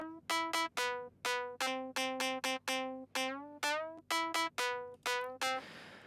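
An FL Studio synth preset, turned down and widened with a stereo shaper, plays a bouncy future house riff of short plucked notes in a steady rhythm, clean and alone.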